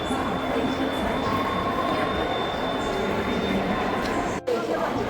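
Steady loud rumble of a train at a high-speed railway station in China, with a thin high whine and indistinct voices underneath.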